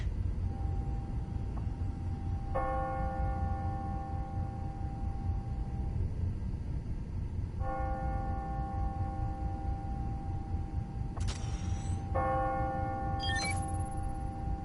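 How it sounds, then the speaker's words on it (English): Soft electronic bell chimes ring out in the game Marvel's Spider-Man: Miles Morales in a few separate bursts over a steady low background hum, with brief bright tones in between. "When I hear those bells,"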